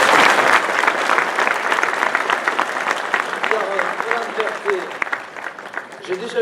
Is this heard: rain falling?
no